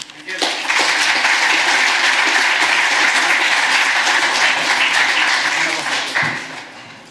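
Loud, dense audience applause fills a conference hall after a talk on building a business around passion, starting abruptly and holding steady before tapering off near the end.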